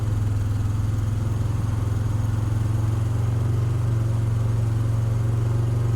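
A cold vehicle engine idles steadily after a start, a loud, even low rumble that holds constant throughout with no voices.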